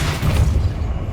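Depulso spell cast in Hogwarts Legacy, a forceful low booming blast that rumbles steadily for about a second with no talk over it.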